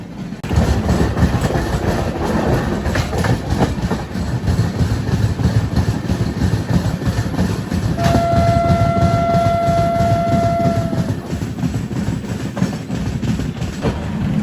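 Train running on the Kirandul line near Kottavalasa Junction on the Visakhapatnam to Araku route, a loud, continuous rumble of wheels and carriages with a sustained horn-like tone partway through.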